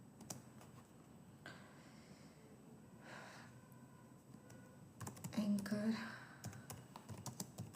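Soft, fairly faint computer keyboard typing while writing HTML paragraph text, with scattered key clicks that grow into a denser burst near the end amid low room noise and some breathing.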